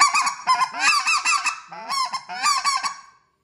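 A handheld goose call blown to imitate a specklebelly goose yodel: loud, close two- and three-note honking bursts in quick varied pitches, ending in silence.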